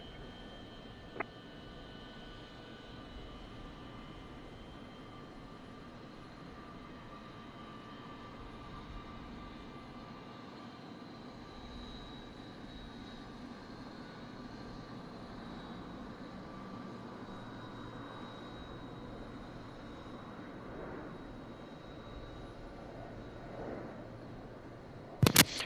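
A Zibo mod Boeing 737 jet airliner taxis at Bordeaux in a flight simulator: a faint, steady engine drone and hum continues for the whole stretch, with a few sharp clicks and thumps near the end.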